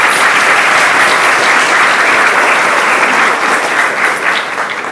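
Sustained audience applause at a youth enrichment program luncheon, a dense steady wash of many hands clapping together, loud and close, holding for several seconds before tapering slightly at the end.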